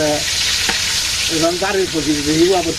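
Fish frying in a pan in a village kitchen, a steady hissing sizzle throughout while someone talks over it now and then.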